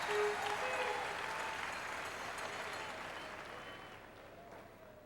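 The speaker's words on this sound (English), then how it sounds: "you'll hear the crowd encouraging" A crowd at a curling championship final applauding steadily, a broad wash of clapping that slowly fades over a few seconds, heard from a distance.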